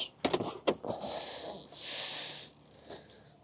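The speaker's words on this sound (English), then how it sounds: "We actually have electric windows." Electric windows on a Mercedes W109 300 SEL whir as they move, a steady motor hum lasting around a second and a half, preceded by a few sharp clicks and thumps close by.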